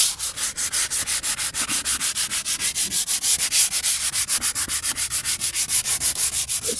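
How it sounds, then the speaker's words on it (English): Steady rhythmic hand sanding of DAP plastic wood putty on wood, brisk back-and-forth strokes at an even fast pace, close and loud with no voices. "It sands real easy"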